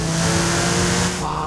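Porsche engine in Forza Horizon 5 revving hard under acceleration, a steady loud drone with a strong tonal hum that eases slightly near the end, over a faint background voice.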